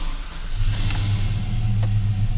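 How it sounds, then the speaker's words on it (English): A lowered pickup truck with a swapped 5.3 V8 engine runs with a steady, loud, low rumble close by, holding an even idle-like drone throughout with no voices. "we're going to start it up, we're going to rev it up to fuel cut within 4 seconds"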